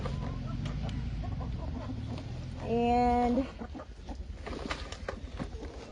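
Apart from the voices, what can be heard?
chickens clucking in their cage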